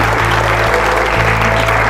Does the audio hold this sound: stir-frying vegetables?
no